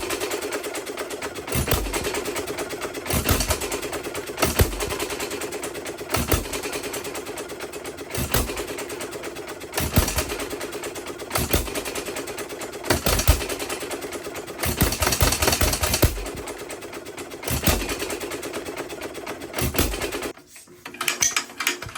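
An antique engine at a tractor show chugs in a steady, rhythmic series of mechanical beats, with irregular louder pulses and a sudden stop near the end.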